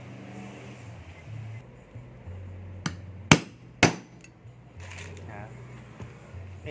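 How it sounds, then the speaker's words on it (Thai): A few sharp hammer strikes on a genuine leather belt being fitted with its buckle, three loud close knocks in quick succession over a low background hum. "ตอนนี้จะตอกย้ำอีกทีนึง"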